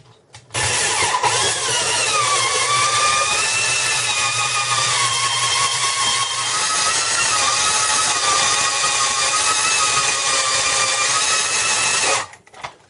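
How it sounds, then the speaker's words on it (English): An electric drill spins a length of conduit pipe while building a semi-vertical trap antenna, giving a steady, continuous motor whine that starts abruptly, holds for about eleven seconds and cuts off, with no talking. "then we're going to go ahead and we're going to start our drill"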